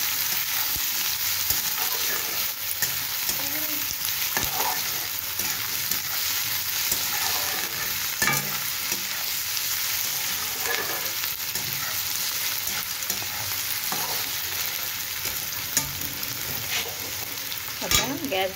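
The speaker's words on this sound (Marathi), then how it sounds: "बटाटा चांगला तेलामध्ये परतून घेऊया।" Potatoes fry and are stirred in hot oil for a methi bhaji, giving a steady close sizzle with occasional scraping clicks of the spoon across the pan throughout.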